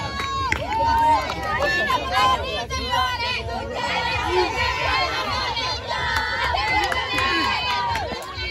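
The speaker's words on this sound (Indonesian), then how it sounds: "Beri tepuk tangan untuk kawannya" Children at a talent activity event cheer and shout excitedly in a loud, crowded babble of high voices, with overlapping yells and calls rising and falling throughout; distinct clapping is not evident.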